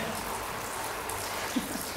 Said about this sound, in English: It is dusk and it has started to rain.